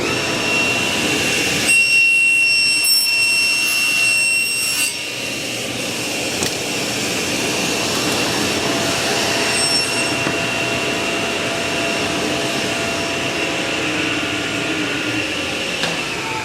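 Table saw cutting the waste between dovetails, a loud continuous whine and roar running throughout, close by with no talk.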